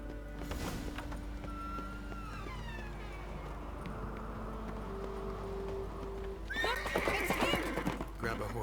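Horse whinnying and hooves clip-clopping in the video game The Witcher 3: Wild Hunt, with a brief neigh early and louder galloping near the end, set under steady game ambience and talking voices.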